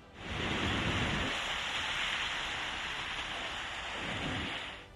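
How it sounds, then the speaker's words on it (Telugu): Heavy, unceasing rain pouring down in Rajahmundry during flooding of low-lying areas, a dense, loud hiss of rainfall with a deeper rumble of water that swells and eases midway, no voices. "రాజమండ్రిలో ఎడతెరిపి లేకుండా వర్షం పడ్డంతో లోతట్టు ప్రాంతాలు జలమయమయ్యాయి"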